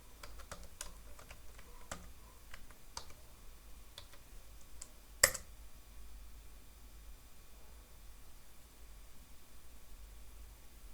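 A password is typed on a computer keyboard: a string of quiet, irregular key clicks, then one sharper, louder keystroke, followed by near silence.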